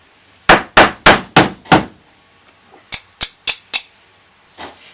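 A hammer striking a metal hole punch to cut a hole for eyelets and rivets, five loud ringing blows in quick rhythm, a pause, then four more sharp strikes and a softer final tap, close and alone.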